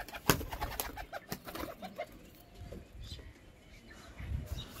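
Naptha pigeons, an older bird among them, coo in low repeated bursts close by, with scattered chirps and handling rustle over an uneven background.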